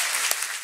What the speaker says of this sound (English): So huge round of applause for all of you.